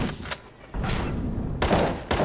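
Gunfire in CS:GO comes in several loud bursts separated by short gaps, each burst a rapid run of shots heard close, with no talk over it.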